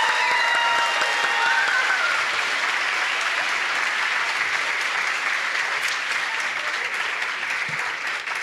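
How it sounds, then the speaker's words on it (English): An audience claps for fifth grade graduates at an elementary school ceremony, loud and sustained applause that carries on evenly and thins slightly toward the close, with a few faint whistle-like tones early on. "Let's give them one more round of applause."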